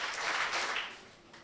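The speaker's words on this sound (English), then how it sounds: "If you can hear me, clap 3 times." A small meetup group in Kuala Lumpur claps on cue, a brief burst of clapping that fades out within about a second, fairly faint and with no talking over it.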